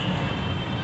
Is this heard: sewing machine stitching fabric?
no